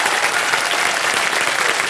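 Studio audience applause on the KBC game show set, a loud, dense and continuous roar of many hands clapping close up, steady throughout with no talk over it.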